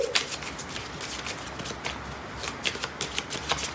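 Small oracle cards are shuffled close up, giving a continuous soft papery riffling and rustle with light flicks throughout. No one speaks.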